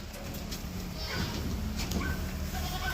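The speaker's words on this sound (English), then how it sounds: "Got some new little baby goats." Baby goats bleat outdoors near their mother, several short wavering calls over a soft outdoor background, close and moderately loud, with a few birds faintly present.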